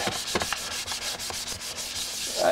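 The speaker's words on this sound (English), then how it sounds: "Get a final sanding on this before I get the prime on it" Hand sanding of a motorcycle part in final preparation before primer: steady rhythmic scrubbing strokes, close and moderately loud, with no voices.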